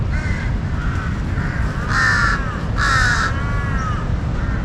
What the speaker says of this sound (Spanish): Hay cuervos, aquí están. Ahí están en los árboles, creo que los pueden escuchar.